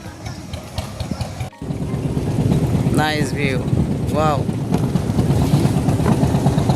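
A small trawler boat's engine drones steadily on a river in the eastern Sundarbans near Sharankhola, Bagerhat, under heavy wind buffeting, while voices briefly exclaim over it.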